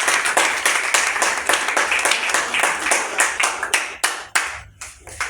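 An audience applauds at a Women's Month closing ceremony held by a women's league: dense, steady clapping from many hands that thins into scattered last claps near the end.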